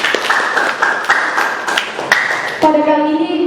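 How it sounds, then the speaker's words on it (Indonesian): A room at a press conference breaks into applause, a steady patter of clapping hands from a small crowd that fades as a voice begins speaking near the end. "Tepuk tangan untuk kita semua dulu."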